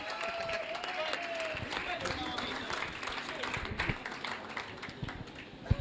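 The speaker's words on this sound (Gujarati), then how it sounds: "ભાઈ એ જેટલો અવાજ કહે છે એટલી તો તાળી પાડો એમની માટે." Crowd applause at a cricket league opening ceremony, steady clapping from an audience welcoming guests to the stage, with a voice talking over it.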